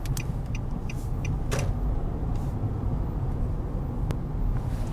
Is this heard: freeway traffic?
yes